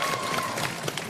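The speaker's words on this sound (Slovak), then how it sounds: "Potlesk" Audience applauding at a Slovak stage show, a steady wash of clapping heard close for about a second with a faint tone running under it.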